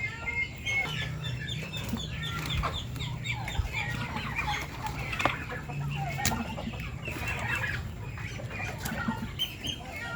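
Backyard chickens clucking and murmuring continuously while eating homemade feed mixed from coconut, fermented vegetables, rice bran and corn, with occasional sharper calls close by.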